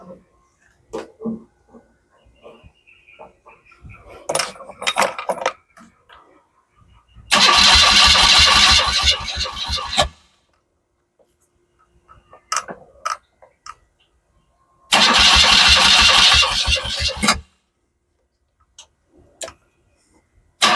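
A motorcycle engine is cranked over in two loud bursts of starter whirring, each about two to three seconds long. Quiet handling clicks and small knocks fill the gaps between them, and the engine does not catch and run.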